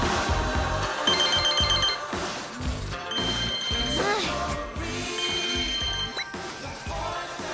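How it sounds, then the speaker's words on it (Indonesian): A telephone rings with a repeating electronic ringtone, played over steady background music and mixed with other tones for several seconds, no clear speech. "Oh, saya punya telepon."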